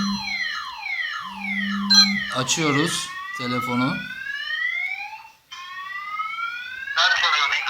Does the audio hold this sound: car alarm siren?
yes